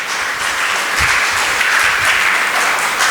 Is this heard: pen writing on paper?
no